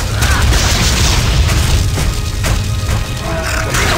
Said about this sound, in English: A lot of explosions. I hope they're not too loud.